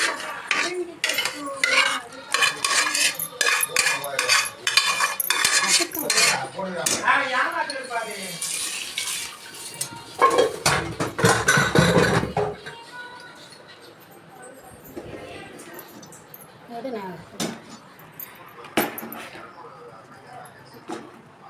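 A utensil scrapes and clinks against a metal pot in irregular bursts as food is stirred, with people talking over it.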